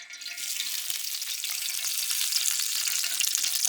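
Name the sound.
curry leaves frying in hot oil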